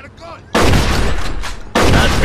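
Gunfire in the crime game Mafia 2 sounds out in two loud, sustained bursts of heavy shooting that cut in abruptly after a brief quieter stretch with a voice.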